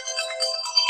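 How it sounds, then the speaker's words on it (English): A loud electronic phone ringtone plays steadily for about a second, a bright repeating chime pattern with no talk over it. "I guess that ringtone is loud."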